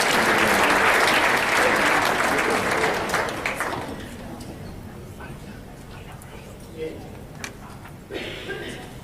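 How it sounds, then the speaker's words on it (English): Audience applause at a psychic and reiki event, loud clapping from a crowd for a few seconds, then thinning out to scattered claps. "A round of applause for Rosemary"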